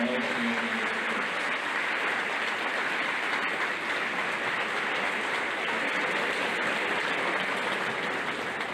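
High school graduation audience, seniors standing, applauds parents and families: a large crowd's continuous, even clapping fills the space, loud and steady for nearly nine seconds.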